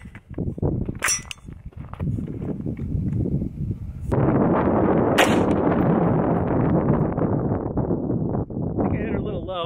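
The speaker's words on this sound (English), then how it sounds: "We're going to move on to the AR-15 next, shooting the 223." Two sharp, loud AR-15 rifle shots firing .223 55-grain full metal jacket rounds outdoors, about four seconds apart, over steady wind and background noise.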